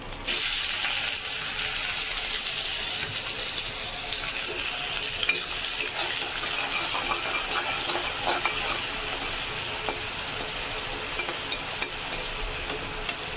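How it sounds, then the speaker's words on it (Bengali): Chopped onions fry in hot oil for a Bengali coconut-mustard prawn dish, a steady close sizzle with faint stirring scrapes throughout and no talking. "তেলটা গরম হয়ে গেছে, তার মধ্যে দিয়ে দিচ্ছি কুচনো পেঁয়াজগুলো।"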